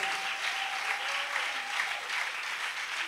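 A church congregation claps together in dense, sustained applause, loud and close, with a faint voice or tone lingering beneath the clapping.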